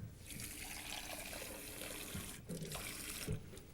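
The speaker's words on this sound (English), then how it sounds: "And we add another 1½ cups of tepid water." Tepid water pours steadily from a tap or jug into a bread starter for dough, a continuous close splashing rush with a few brief shifts in the flow.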